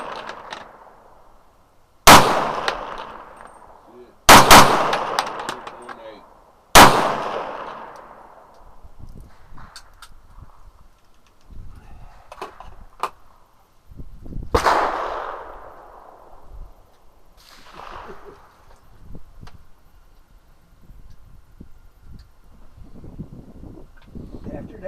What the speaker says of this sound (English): After that first shot goes off, that second shot jumps.